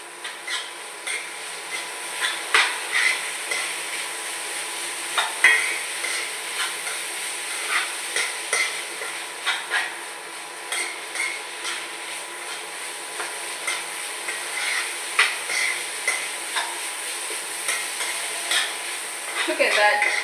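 Pasta is stirred through a soft sauce in a pan on the stove, making repeated light scrapes and utensil clinks over a faint steady sizzle, with no one speaking.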